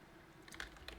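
A few quick keystrokes tap on a computer keyboard, faint and close, in a short burst of light clicks.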